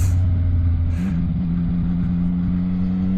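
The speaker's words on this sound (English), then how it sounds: "This is a standard exhaust and that sound is..." A CFMOTO 675NK two-cylinder motorcycle with its standard exhaust revs up close, its low engine note climbing in pitch after about a second and then holding steady and loud, with no talking.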